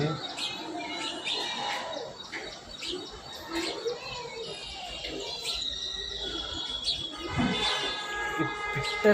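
Small birds chirp and tweet in quick, scattered bursts, several calls overlapping close by against a quiet background.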